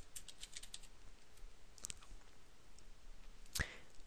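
Quiet computer keyboard typing while entering text in a Visual Basic 2010 form, a short burst of soft clicks early on and a single sharper tap near the end, faint over low room noise.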